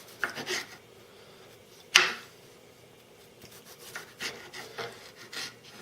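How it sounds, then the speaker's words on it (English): A Deli Pro knife slices a tomato into very thin slices, heard as faint, soft scraping strokes with one sharper cutting snap partway through, close and quiet. "it'll cut ultra thin tomato slices, almost too thin"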